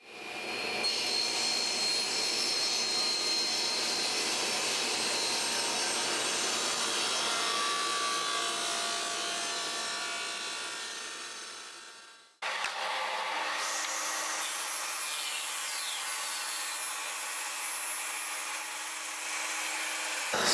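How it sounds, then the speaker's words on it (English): A power saw cuts a lip out of a wooden window stool, making a loud, steady whirring cut that winds down midway, then a second cut starts right after and runs to the end, with no voices. "we have to cut our lip out of it"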